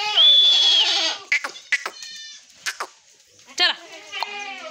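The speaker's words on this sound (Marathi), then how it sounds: "सगळ्या बकऱ्या आतमध्ये आहे आणि त्यांचे पिल्ले तिकडे आहे" Goats and kids on a goat farm, with a long bleat up close at the start followed by several shorter bleats and cries of varying pitch, some near and some farther off, in a busy pen.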